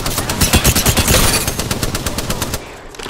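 Rapid automatic gunfire in the Apex Legends shooter game, a dense string of loud, sharp shots in quick rhythm for nearly three seconds before cutting off.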